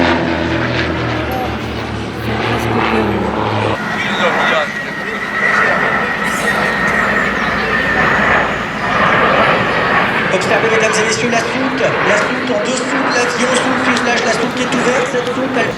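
Patrouille de France aerobatic jets passing over a festival air show crowd, a loud sustained roar that swells and lingers across the scene, with excited voices talking over it.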